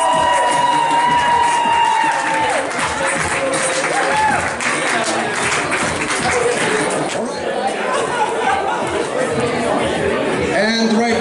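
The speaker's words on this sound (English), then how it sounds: "let's applaud for Dan" Wedding guests at a reception clap and cheer for the groom, a lively crowd roar of applause, shouts and chatter mixed together, loud and continuous with voices throughout.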